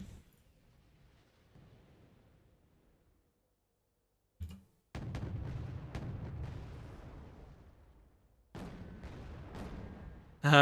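Artillery and gunfire from Wargame: Red Dragon erupt after a quiet start, with a sharp blast, then a dense rumbling barrage of booms and cracks, a pause, and another heavy burst of explosions.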